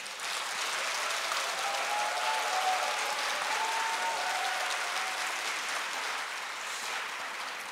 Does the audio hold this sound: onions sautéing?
no